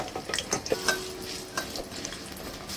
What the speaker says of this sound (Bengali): সাদা তেল দিয়ে দিচ্ছি। আলু ভেজে নেব।